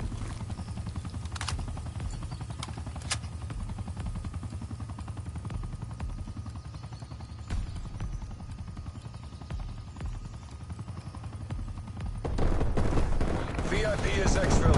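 Gunfire rattles in Call of Duty: Black Ops Cold War during a VIP escort, with rapid shots under steady low rumble and game dialogue, growing louder and heavier near the end.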